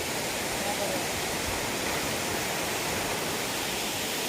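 Steady broadband roar of rushing water from a hill waterfall at Sana Ghagara in Keonjhar, loud and continuous with no breaks, filling the whole scene.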